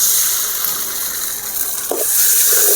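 Beaten egg poured into drumstick leaves frying in a pan for a fried rice dish, a loud, close steady sizzle with a brief burst of liquid hitting hot oil partway through.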